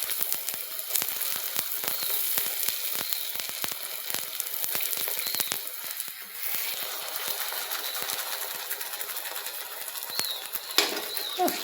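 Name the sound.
puris frying in hot oil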